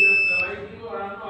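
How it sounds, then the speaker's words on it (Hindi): The sensor buzzer on an automatic panipuri kit gives a steady, high electronic tone, loud and continuous, with a hum and a low background underneath. "3 सेकंड बाद ये बजर बजने लगा।"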